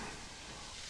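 Butter melting in a cast iron skillet set over one side of a charcoal fire gives off a steady, close, broadband sizzle that holds evenly for about a second.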